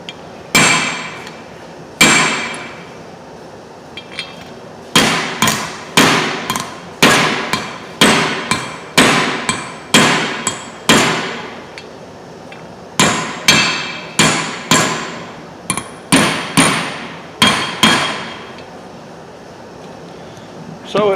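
Hammer blows tapping an expansion plug into a Massey Ferguson MF 300 combine, loud sharp metallic strikes in irregular bursts and quick runs, each ringing briefly, heard close with no talk.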